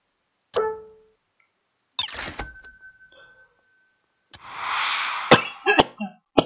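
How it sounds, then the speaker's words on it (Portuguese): Several short, sharp coughs from one person indoors, starting with a single burst, then a longer rough one, and ending in a quick cluster of coughs beside a hissing background noise. "tosse."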